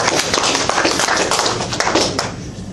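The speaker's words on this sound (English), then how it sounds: "Round of applause and click on to the next slide." Dense, steady clapping from a group fills the whole stretch, a continuous patter of many hands that tapers slightly at the end.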